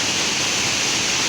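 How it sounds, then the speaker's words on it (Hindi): The Ganga river running full in the monsoon, a loud, steady broadband rush of water like a waterfall, continuous and close with no voices. "और यह है नदी, जो गंगा नदी है।"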